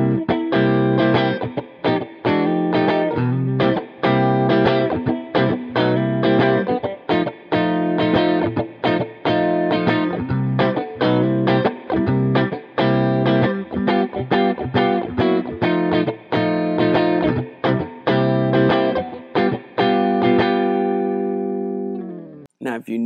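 An electric guitar with a distortion effect plays a 12-bar blues chord progression. Loud, driving strummed chords keep a steady rhythm and finish on a sustained ringing chord that fades out.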